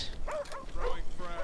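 Attack dogs in the Call of Duty Black Ops video game yip and bark in quick excited bursts, mixed with someone talking over them.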